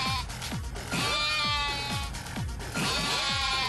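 Bleating sheep from the video game Yakuza: Like a Dragon, with a couple of loud, quavering cries at the start and end over a dense game track with steady low thuds.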